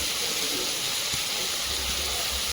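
Chopped onion and slit green chillies hit hot ghee with a loud, steady hiss of frying that fills the whole moment, then cuts off abruptly at the end.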